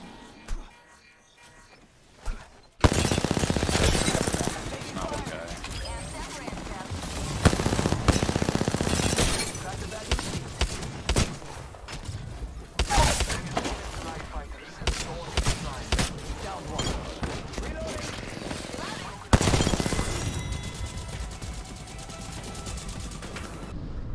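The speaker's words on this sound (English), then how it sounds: "Shots fired at me." Gunshots in Apex Legends: after a quiet opening, bursts of rapid automatic fire come in loud, uneven clusters with sharp single cracks between them, while a player talks at times.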